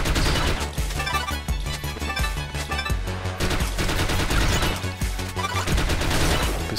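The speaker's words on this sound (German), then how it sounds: "Oh, unser Flammenwerfer macht allmählich schlapp." Sustained roaring gunfire-like bursts from a flamethrower in The Mummy Demastered, a dense, loud continuous rush over a steady game backdrop with no talk.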